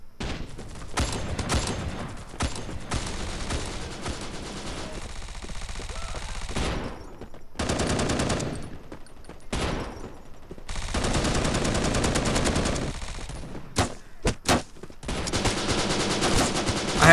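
Gunfire in the shooter video game Bullet Force, with rapid bursts of automatic fire broken by short pauses, moderately loud throughout.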